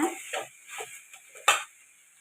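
A utensil stirs cabbage stir-fry in a pan over low heat, making soft scraping strokes and light clinks against the pan, with one sharper knock, over a faint sizzle.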